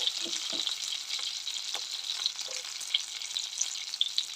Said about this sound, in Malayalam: ഇതൊന്ന് വഴറ്റി കൊടുക്കണം ഇടയിലൊന്ന് ഇളക്കി കൊടുത്താൽ മതിയാവും